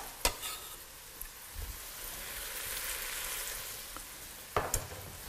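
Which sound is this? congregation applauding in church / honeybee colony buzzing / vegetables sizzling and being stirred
vegetables sizzling and being stirred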